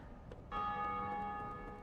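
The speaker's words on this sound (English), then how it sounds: "ring the bell," A single bell in Dark Souls Remastered is struck once and rings out with a long, sustained metallic hum, fairly faint and slowly fading.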